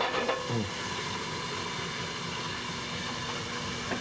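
Shrimp sear in a cast iron pan with very little oil, giving an even, close hiss that holds steady throughout without talk.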